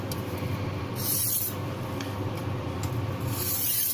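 A kitchen knife edge being honed on a stone for a micro bevel, giving a steady close rasping scrape with brighter hissing strokes repeating every second or two.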